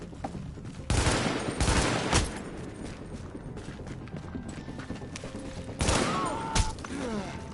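Gunshots in The Division video game ring out as a few sharp, loud cracks at intervals over a low, busy background.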